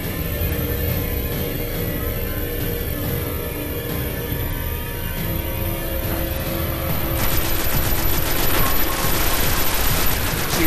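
Sustained automatic fire from an auto rifle in the video game Destiny, dense and loud throughout, growing sharper and more rapid in its final few seconds, with no voices.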